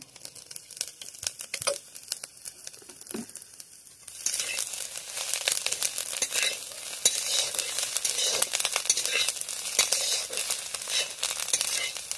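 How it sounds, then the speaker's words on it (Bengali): Quiet scraping at first, then a bright, crackling sizzle of greens frying in mustard oil that continues steadily to the end. "এর সঙ্গে একটু সরিষার তেল দিয়ে দেবো।"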